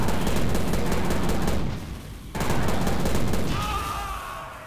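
Gunfire in the video game Prey: rapid, dense shots rattle on almost continuously, with a brief dip partway through before the firing resumes.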